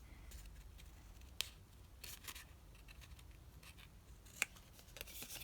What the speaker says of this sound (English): and then we'll just cut these little bits out.